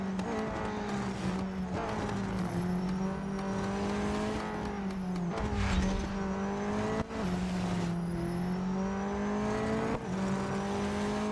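Race cars in the Real Racing 3 mobile game hold a loud, sustained engine drone with shifting pitch, broken by gear changes and brief tire squeals as the cars race on.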